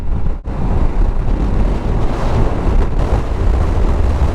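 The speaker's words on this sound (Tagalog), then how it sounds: "Lakas ng hangin dito" Strong, steady wind at a viewpoint in San Nicolas, Pangasinan roars across the microphone with constant low rumble, briefly dipping once near the start, then buffeting continuously and loudly.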